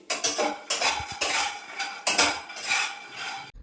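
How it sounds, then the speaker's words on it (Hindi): Makhana (fox nuts) and cashews being dry-roasted and stirred in a pan, with a run of close, loud rattling scrapes and clinks in bursts as the pieces are tossed about, and no talking. "मैं मखाने रोस्ट कर रही हूँ और इसके साथ थोड़ा काजू भी रोस्ट कर लूँगी"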